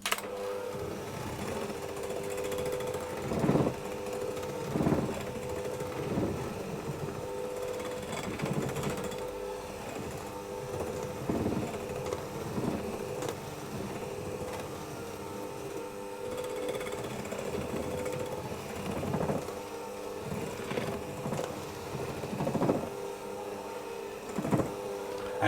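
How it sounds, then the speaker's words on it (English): An electric mixer runs on low speed through chocolate biscuit dough, giving a steady motor whir with periodic louder thumps as the dough clumps. It plays alone at a moderate level for the whole stretch. "the next thing to do is simply to mix that on a low speed until it all comes together in clumps"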